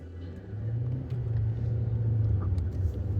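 A car accelerates on the road to get in front of a school bus, its engine rumbling low and steady, growing louder after the first half second and holding a constant drone without speech.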